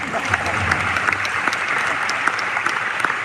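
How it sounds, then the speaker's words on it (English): Audience applause at a summit talk, a dense steady clatter of many hands clapping throughout, fairly close and continuous with no speech over it. "of course you can clap, yes"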